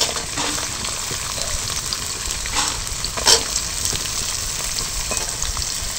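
Chopped carrot going into a pan of frying ginger for white sauce pasta gives a steady, close sizzle, with a brief clatter partway through as it is stirred.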